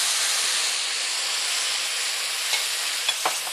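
Dry white wine hits a hot pan with minced garlic, giving a loud, steady broadband sizzle and hiss that holds for a few seconds, with a couple of faint clicks near the end.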